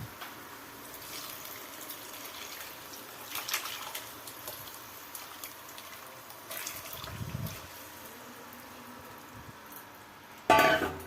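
Cooking water poured into fried spice paste in a pan makes a faint splashing gush and soft sizzle, with a few quiet kitchen clatters and a sharper clank near the end.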